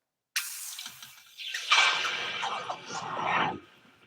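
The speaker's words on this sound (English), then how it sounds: "Here goes the quench." A red-hot metal piece is plunged into water to quench it, giving a sudden sharp hiss that swells into a roiling sizzle and bubbling before fading out, close and fairly loud with no talking.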